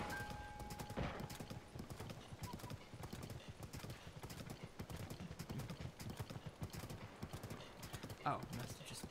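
Horse galloping in the video game Tears of the Kingdom, a steady rapid clip-clop of hooves running through the whole stretch amid game ambience, with a brief whinny-like burst near the end.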